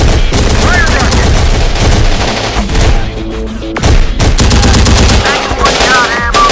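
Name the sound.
heavy gunfire in Terminator Dark Fate Defiance video game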